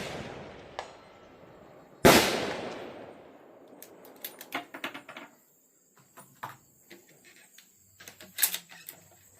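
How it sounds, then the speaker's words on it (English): A sharp, loud rifle report from a Winchester Model 70 Featherweight in .270 Win at a range with a 20-inch steel plate at 300 yards, followed by a decaying echo, then scattered fainter distant shots and clatter. "I am not the only marksman down here, but you will see my shots."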